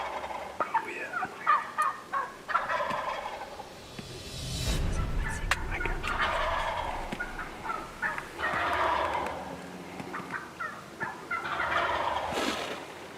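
A hunter's turkey call sounds a series of yelps during spring turkey season, imitating a high-pitched hen and dragging down like a jake; loud, close raspy notes in repeated bursts with brief pauses.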